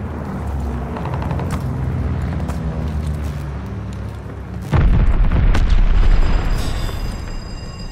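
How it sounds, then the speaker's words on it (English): Bombing run explosions in the Call of Duty Vanguard multiplayer game, a dense continuous rumble of blasts that swells into a heavier, louder booming barrage partway through, with no talking. "Friendly bombing run inbound."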